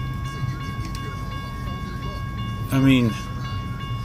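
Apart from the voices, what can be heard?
BNSF trailer train with Warbonnet locomotive 4703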